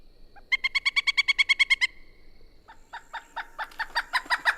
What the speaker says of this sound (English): that big prehistoric looking woodpecker is the Pileated Woodpecker. I'll let you hear that. A very loud bird.